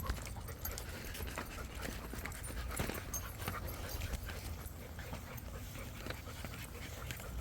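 Dogs pant rapidly up close, with faint whimpers and paws clicking and shuffling on a hard floor, no one speaking.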